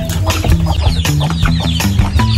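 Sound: chickens clucking

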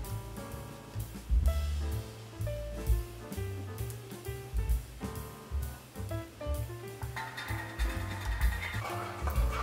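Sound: video game sound from console

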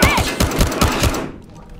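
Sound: gunfire from the video game Battlefield Hardline

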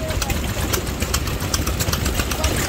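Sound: antique gas engine running an air compressor

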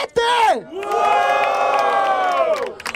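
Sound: crowd cheering at a rap battle

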